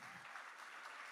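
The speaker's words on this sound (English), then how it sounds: "And another round of applause for Ionix" Applause from an audience at a startup pitch event honoring a presenting company and the judges; a short, even burst of clapping with no voices over it.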